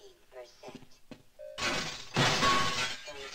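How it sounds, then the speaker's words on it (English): Objects smashing to pieces in the 1998 Half-Life hazard course: a loud burst of shattering glass and breaking debris follows a few quieter thuds and clinks, with brief talk near the start. "Sorry, I can't resist just smashing shit to pieces"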